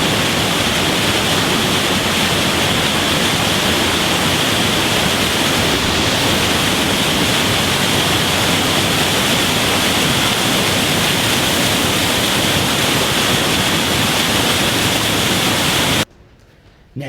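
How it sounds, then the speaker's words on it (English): At Cachoeira in Minas Gerais, Brazil, a waterfall roars loud and close as a dense, unbroken wash of rushing water that cuts off abruptly just before the end. "what a great way to do the start, right by the waterfall"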